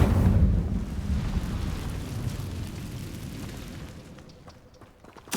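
A fire spell in Hogwarts Legacy bursts out as a loud whooshing roar that gradually fades over several seconds, ending with a small crackling pop.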